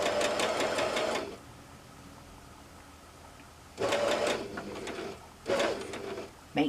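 Sewing machine stitching a dart in fabric: a fast rattling run of stitches, a pause of quiet, then two shorter bursts of stitching close by, with no talk.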